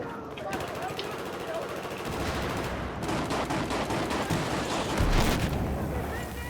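Sustained automatic gunfire from a player in Battlefield 4 on Operation Metro, Conquest mode, rapid close bursts of rattling shots over a rumbling, explosive battle backdrop, loud throughout with a heavy blast near the end.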